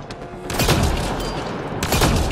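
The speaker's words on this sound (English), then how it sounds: "Shotgun? Shotgun." A shotgun fires in Mass Effect Andromeda combat, two loud booming blasts roughly a second apart over a dense background of game noise.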